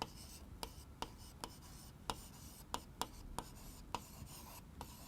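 Chalk or marker taps and short strokes on a board during a Class 8 maths lesson, a dozen or so sharp, irregular ticks over a low room background with no talking.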